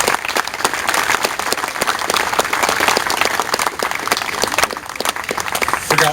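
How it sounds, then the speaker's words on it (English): Loud, sustained applause from an audience honouring the competitors at the Orange Bowl tennis final ceremony, dense steady clapping with no break. "How about one more round of applause for our competitors?"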